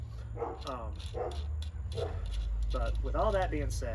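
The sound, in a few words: dog barking in the background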